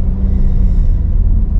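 A 2016 Honda Mobilio rolling over a speed bump, heard from inside the car as a deep, loud rumble of road and suspension noise with a low thump, and no talking.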